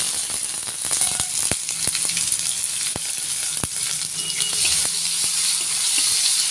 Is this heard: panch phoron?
yes